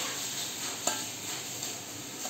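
Black glutinous rice is stirred in a container as boiling water is poured in a little at a time, giving soft continuous wet scraping with a couple of brief utensil knocks, close and quiet with no speech.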